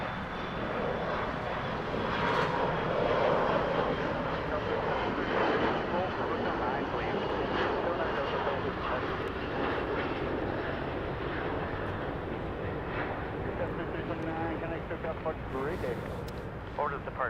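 Jet engines of a United airliner roaring on takeoff at LAX, a loud, steady broadband rumble holding throughout, with radio voices talking over it.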